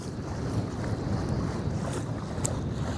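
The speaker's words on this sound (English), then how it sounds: "Yeah, sorry about the wind" Strong wind buffets the microphone on a boat out on the California Delta, a steady loud rumbling roar with spray and water noise, constant throughout with no talking.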